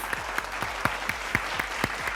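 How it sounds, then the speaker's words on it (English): Audience applause after a speech at an ExxonMobil event in Delhi, heard as sparse, fairly soft clapping with a handful of distinct sharper claps landing at an irregular pace over a steady room hiss. "that deserves a thunder round of applause"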